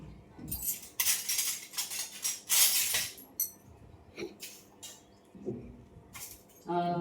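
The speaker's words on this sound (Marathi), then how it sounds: "आणि आता हलवून घ्यायचं" Potato chili thecha stirred with a spoon, giving scattered clinks and light scraping taps at close range, with short quiet gaps between bursts.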